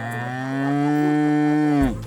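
A cow at the UC Davis campus gives one long, loud, close moo of nearly two seconds that rises slightly and then cuts off abruptly.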